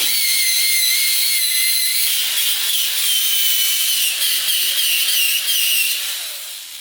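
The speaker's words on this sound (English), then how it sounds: "I'm just gonna use my Dremel with this steel wire wheel." A Dremel spinning a steel wire wheel to scrub old crud off a surface, a loud high-pitched continuous whine with gritty scraping texture, fading slightly at the end.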